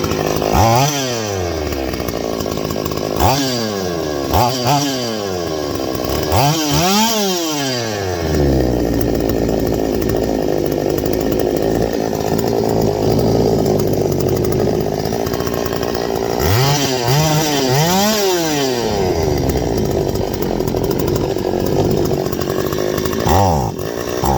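A Stihl 025 chainsaw with a vacuum leak runs loud and close, revving up in repeated bursts and then sagging and bogging down, with several rising-and-falling rev cycles across the stretch and no talking.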